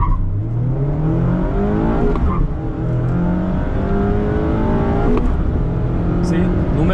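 A 2023 Mazda Miata ND2 Touring with a 6-speed manual revs hard through an aggressive gear shift. The engine note climbs, dips at the shift and climbs again, loud and close, under a man's speech.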